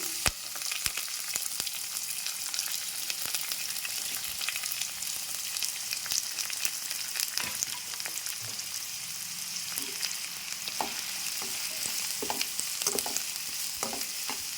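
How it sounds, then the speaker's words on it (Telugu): Garlic and onions fry in oil for a drumstick, tomato and egg curry, a soft continuous crackling sizzle with scattered light pops and utensil taps, moderately quiet and without speech. "ఈ నూనెలోకి వెల్లుల్లిపాయ వేసి పెద్దల్లిపాయలు వేసుకోవాలండి"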